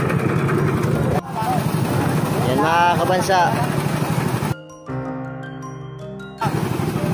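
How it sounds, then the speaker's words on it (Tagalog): A blower machine's engine runs loud and steady, a dense mechanical drone that briefly drops and changes before surging back, while someone talks over it nearby. "Yan na, inumpisa na po namin mag-blower."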